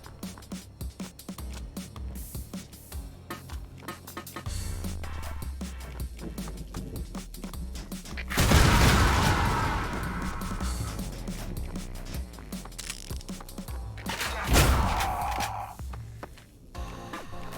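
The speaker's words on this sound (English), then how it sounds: "Here at the build engine, we like our explosions." Two loud explosions burst in the video game Ion Fury, each a sudden broad roar that decays over a couple of seconds, set against busy game music and gunfire-like clatter.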